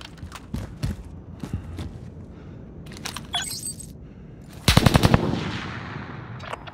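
In the video game Call of Duty: Warzone Pacific, scattered single gunshots pop in the distance, then a loud, close burst of rapid automatic fire rattles off before fading.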